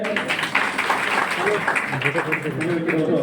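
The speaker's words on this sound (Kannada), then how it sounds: "ಮತ್ತೊಮ್ಮೆ ಜೋರಾದ ಚಪ್ಪಾಳೆ" Audience applause at a felicitation ceremony in a hall, a dense, steady patter of clapping lasting throughout, with voices and crowd talk mixed in underneath.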